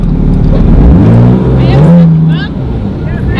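A Porsche GT3's engine revs loudly close by, the pitch sweeping up and down, while people talk over it.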